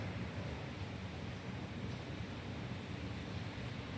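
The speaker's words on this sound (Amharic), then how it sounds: "ጩኸታው ኃይለኛ ነፋስ" Strong wind roaring steadily and continuously, a dense broadband rush with no breaks, fairly loud and enveloping.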